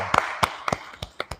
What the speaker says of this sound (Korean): 오늘 먼저 박수 한번 쳐드리죠